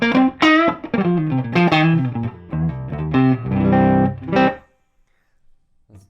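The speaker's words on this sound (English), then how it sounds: "I'm going to turn the reverb off." An electric guitar plays dry through a distorted amp with the reverb off, a quick run of picked notes and chords that stop short and leave near silence at the end.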